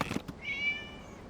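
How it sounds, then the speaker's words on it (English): A cat in the video game Genshin Impact lets out a single drawn-out meow, clear and close, after a couple of short soft sounds at the start. "It was just a cat."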